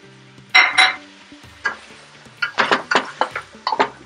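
Spoon clinks and scrapes against a pot while mixed vegetables and shrimp rice are stirred, a cluster of sharp knocks followed by a run of quick rhythmic clatters, close and fairly loud with no talk.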